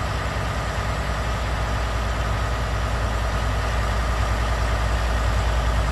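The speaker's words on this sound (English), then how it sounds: "Man, the sound of the engine." A septic tank truck engine in American Truck Simulator idles in a continuous low, heavy drone that stays even and loud for the whole stretch, with no talk.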